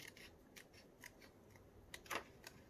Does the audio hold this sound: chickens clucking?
no